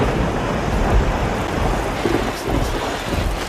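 Heavy rain pours steadily during one of California's wettest years, a loud dense wash with a low rumbling undertone like distant thunder, continuous with no voices.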